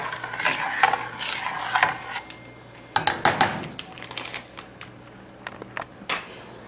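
A spoon stirs melting cheese into baked macaroni in a dish, making close, rapid clicking and scraping with sticky squelches, with a sharper run of clattering strokes in the middle.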